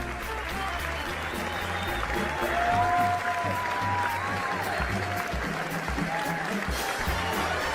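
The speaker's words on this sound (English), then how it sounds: "thank you for that hearty pre-recorded applause" Pre-recorded applause plays during a late-night livestream: a steady wash of crowd clapping that holds at an even level throughout, with a faint tonal voice or music line drifting under it.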